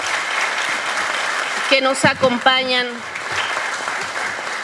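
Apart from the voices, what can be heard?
audience applause at a conference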